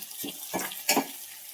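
Coriander leaves drop into hot oil for tempering while a brinjal curry is made, giving a few short, faint bursts of sizzle and stirring.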